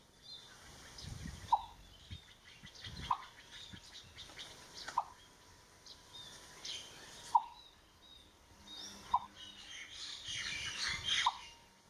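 A green-billed malkoha gives a short, sharp call about six times at regular intervals, fairly faint against soft outdoor background noise in a garden in Thailand.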